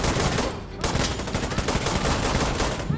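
Rapid bursts of gunfire in the video game Insurgency, dense and continuous over a few seconds, loud and close with a brief break.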